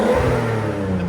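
A 1989 Nissan Skyline Type-M engine and exhaust drone loudly and steadily up close, with a thick low rumble held for a brief moment and no voices.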